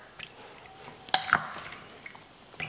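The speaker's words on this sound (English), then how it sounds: "We'll just stir that up, break up the beef a little bit more." Beef stew being stirred in a pot with added beef broth, soft wet squishing and a few sharp drips and clinks of the spoon against the pot, fairly close.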